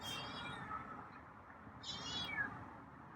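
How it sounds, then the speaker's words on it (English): A feral cat meows a couple of times, a higher cry early on and another rising meow near the end, fairly close over a soft background hiss. "a couple meows there"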